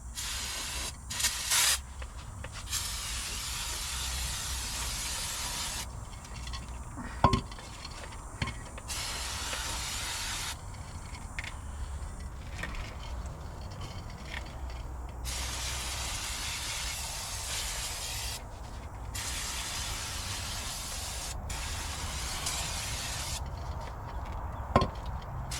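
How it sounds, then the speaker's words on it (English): Brake cleaner sprayed onto a greasy, sludge-coated oil pan from a 1950 Dodge Meadowbrook, heard as long, loud hissing bursts of spray separated by short pauses, with a few faint knocks in between. "we can just kind of hit her with some brake cleaner"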